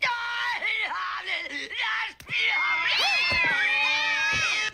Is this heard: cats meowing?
yes